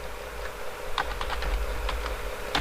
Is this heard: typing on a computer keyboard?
yes